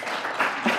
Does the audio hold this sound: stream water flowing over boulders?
no